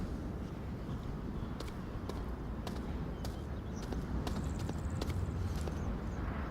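Footsteps in Onward VR, a competitive match between MANCOSVR and ACCESS DENIED, heard as a steady run of small clicking steps over a dense, constant game noise bed, with no speech.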